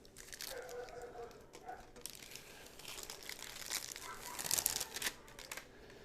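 Plastic wrapping around refrigerated pie crust crinkles and tears as its ends are cut off, quiet, close rustling in irregular bursts that grow busier toward the end, with no one talking.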